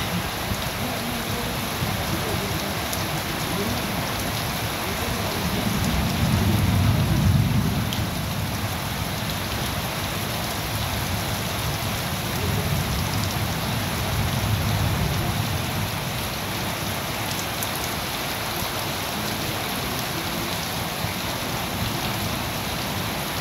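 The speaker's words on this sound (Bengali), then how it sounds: "প্রচুর বৃষ্টি হচ্ছে।" Heavy rain falls steadily in the Sundarbans mangrove forest, a dense continuous wash of drops with swells of louder downpour around the middle, alone without voices.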